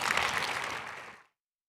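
Audience applause at a benefit breakfast following a presentation, a dense burst of clapping that starts at full strength and fades out within about a second.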